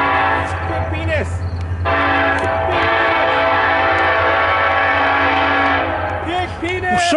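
A train passing close by with a loud, sustained horn blaring in long blasts and rumbling wheels beneath, with a person's voice briefly audible near the end.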